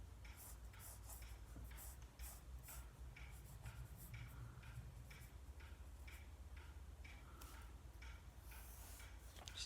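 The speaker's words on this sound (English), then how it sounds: "So I'm gonna draw her now." A pencil drawing a picture of a queen holding her baby on paper, giving faint, rhythmic scratching strokes that repeat steadily throughout over a low background hum.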